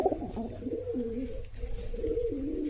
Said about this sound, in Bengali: কবুতর যেহেতু নতুন, সবগুলো বেশিরভাগ পাখা কাটা আছে